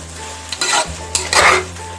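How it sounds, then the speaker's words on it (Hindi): A village-style mutton curry with toor dal and salt is stirred in a pot, with two bursts of scraping and clinking against the metal over a low background hum. "सबको अच्छी तरह मिक्स कर लेते हैं।"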